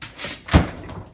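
A trained service dog shuts a door, giving a single solid thunk midway through, preceded by faint shuffling and followed by a short fading rattle.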